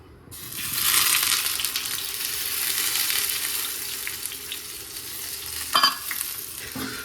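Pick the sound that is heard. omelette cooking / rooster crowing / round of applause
omelette cooking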